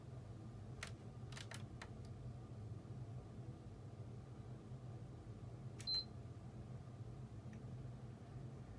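A PS4 console gives a couple of short, thin electronic beeps close by, heard over a quiet room hum with a few faint clicks around them.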